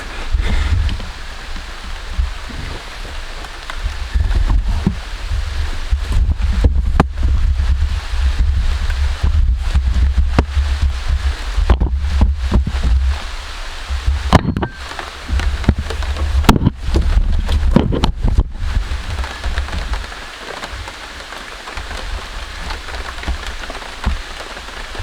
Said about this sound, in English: It's raining. I thought it wasn't supposed to rain anymore.